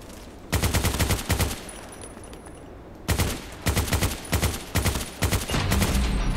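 Machine gun fire from the Contract Wars video game, loud rapid bursts of automatic shots in two clusters separated by a short lull, with a sustained stretch of continuous firing toward the end.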